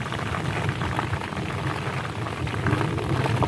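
Heavy rain driven by strong wind during a thunderstorm at a house under construction, a loud steady roaring wash that swells slightly toward the end, with no speech.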